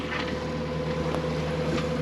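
Steady low drone of a sailboat motoring under engine in flat calm toward Stromboli, a constant hum with water wash and light wind, no voices.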